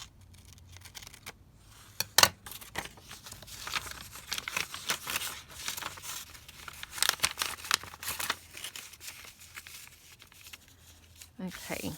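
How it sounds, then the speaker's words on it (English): Scissors trim paper for a collage with quick snipping cuts and soft crinkling of the sheet, close and fairly quiet, set among intermittent rustling and handling noises while someone talks. "I'll just trim this down here."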